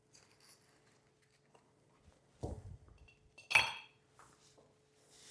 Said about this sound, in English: let's place our ice in the glass.